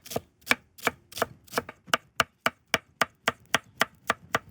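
A knife cuts through a fennel head on a cutting board in about sixteen crisp, evenly spaced chops that come close and clear, with no talking.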